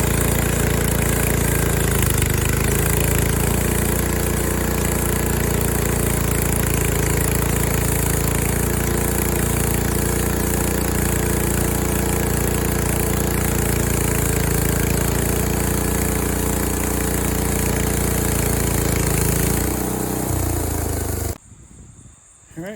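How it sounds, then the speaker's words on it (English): A Frontier OS23 sawmill engine runs steadily and loudly while its blade saws through a cottonwood log, a constant droning roar that holds for about twenty seconds before cutting off abruptly at the end. "I was sawing halfway through and it's split there"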